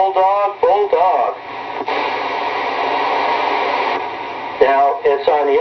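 Voice through a Uniden 980 SSB CB radio with its echo talkback effect, speech bursts passing through a band-limited, hissy channel with a long stretch of steady radio static between them.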